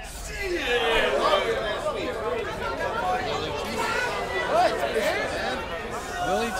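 Crowd chatter fills Willie T's bar on Duval Street in Key West with no music playing, a dense, steady hubbub of many overlapping voices and laughter at moderate loudness.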